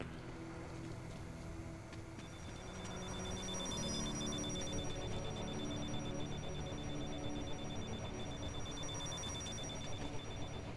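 Alarm tones from the video game Deus Ex: Mankind Divided, steady high-pitched ringing held over a dense, continuous game soundscape, growing a little louder partway through with no talk.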